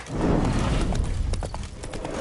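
Horse galloping in The Witcher 3: Wild Hunt on PS5, rapid rhythmic hoofbeats thudding close and loud throughout a short stretch, with faint snorting and no talk.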